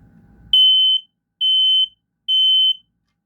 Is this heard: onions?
no